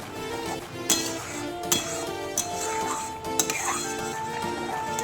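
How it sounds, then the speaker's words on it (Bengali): A utensil scrapes and clinks against a pan as paneer butter masala is stirred, with sharp metallic taps every second or so. A steady hum runs beneath and faint voices are heard. "এরকমভাবে আমি কিন্তু নাড়াচাড়া করতে থাকবো।"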